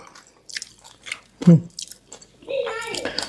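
Crunchy bites of crispy fried angel-wing jellyfish dipped in seafood sauce, a few close crisp chews scattered between bits of talk, with a voice speaking toward the end.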